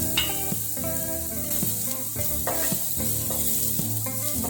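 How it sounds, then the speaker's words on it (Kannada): Garlic fries in hot oil, a soft continuous sizzle sitting beneath prominent background music. "ಒಂದು ಗೆಡ್ಡೆಯಷ್ಟು ಬೆಳ್ಳುಳ್ಳಿ ಹಾಕೊಳ್ತಾ ಇದ್ದೀನಿ"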